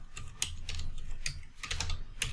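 Keys clatter on a computer keyboard in irregular bursts of close, crisp clicks with short pauses between, with no talking.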